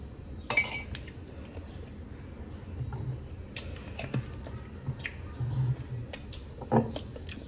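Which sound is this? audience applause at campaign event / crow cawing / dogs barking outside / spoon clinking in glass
spoon clinking in glass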